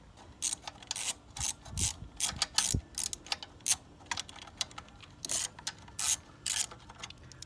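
A ratchet wrench tightens the battery hold-down bolts on a Honda S2000, giving quick bursts of close, dry ratcheting clicks in an uneven stop-start rhythm, with no talking.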